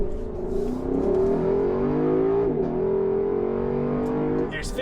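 Lexus LC500 Convertible engine revving as the car accelerates away from a stop, a steady rising drone with gear-change dips, close and loud, with a voice talking over it.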